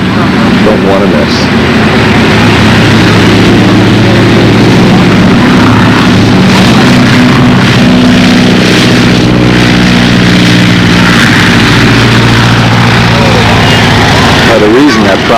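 Model airplane engine running steadily at about 2,500 RPM at a Hampton, Maryland flying contest, a loud continuous droning hum with strong harmonic bands, under a noisy outdoor background with speech mixed in.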